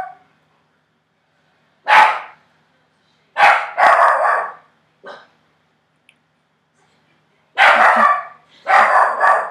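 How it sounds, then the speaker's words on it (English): A puppy barks indoors in short, sharp bursts, loud and close, several barks in pairs separated by silence. "You hear my puppy? He's going a little crazy."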